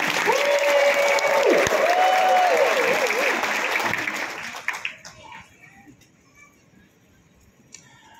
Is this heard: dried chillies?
no